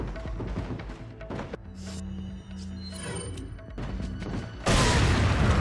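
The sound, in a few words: grenade explosion boom in video game Resident Evil 4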